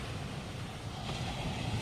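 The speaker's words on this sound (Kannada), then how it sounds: "ಅಲೆಗಳ ಶಬ್ದಗಳು" Sea waves rolling onto Mangalore's Tannirbhavi beach, a continuous broad roar of surf mixed with wind rumble, filling the whole stretch without pauses or speech.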